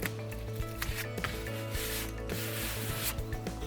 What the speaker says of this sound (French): vous n'aurez plus qu'à faire une petite découpe au cutter